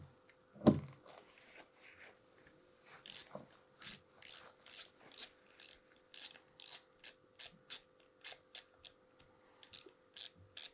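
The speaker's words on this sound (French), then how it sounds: "Il suffit juste maintenant à revisser." Rhythmic ratcheting clicks from a trolling sea-fishing reel as its frame is screwed back on, starting sparse and quickening into a steady, close series of sharp ticks.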